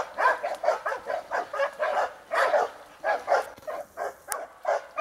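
Several hunting dogs in snow bark rapidly and repeatedly, a close, rhythmic run of excited yelps and bow-wows that carries on throughout with no talking.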